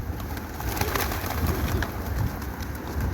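Pigeons coo steadily in a park as people toss them feed, a low throaty burbling that runs continuously through the clip over a busy, fairly loud outdoor background.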